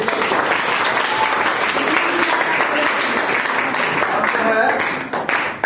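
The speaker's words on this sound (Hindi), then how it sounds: "ताली बजाइए आप लोग" A classroom audience claps during an activity-based lesson in which a teacher lights a candle, the dense applause continuous and fairly loud throughout, with voices mixed underneath.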